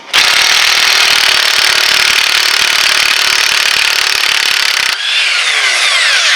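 A loud, steady whine of a power tool loosening a wheel nut on a 2000-2008 Ford Focus runs for about five seconds, then cuts off, leaving a fainter, thinner mechanical hum.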